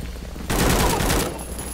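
Heavy gunfire in the war video game A.W.O.L, a sudden loud burst of rapid overlapping shots that cuts in after a quiet half-second, runs for under a second, then trails off into a steady background tone.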